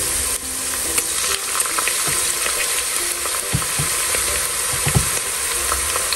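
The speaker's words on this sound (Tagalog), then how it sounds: "Lagyan na po natin ang garlic guys." Garlic frying in a pan, a dense hiss of sizzling oil with scattered knocks and scrapes from stirring, close and fairly loud, without speech.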